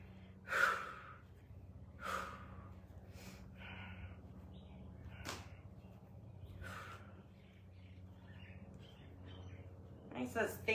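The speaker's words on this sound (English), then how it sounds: "Breathing." Heavy breaths during a light exercise routine of heel raises come at spaced, regular intervals, quiet and close, with sharp inhales at the start and end.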